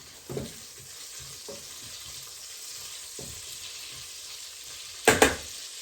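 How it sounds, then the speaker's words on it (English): Sausages fry in a pan with a steady, close sizzle that runs throughout, broken by a few soft stirring knocks and a louder clatter of the pan being moved near the end. "I don't know if you can hear it, but my sausages are doing very nicely in here"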